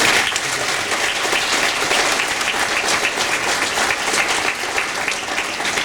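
A concert hall audience claps steadily for student performers at a benefit concert, the dense, even applause holding strong from start to finish.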